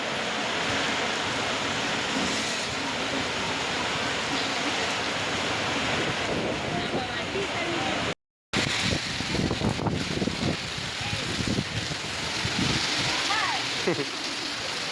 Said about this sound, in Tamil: அழகா மழை பெய்யுதுங்க